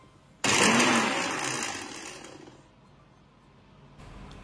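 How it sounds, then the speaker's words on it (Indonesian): Philips 300 electric blender motor whirs loudly as it switches on abruptly, then its pitch and volume gradually fall off before a brief restart near the end. "Dan ini dia suara dari blender ini."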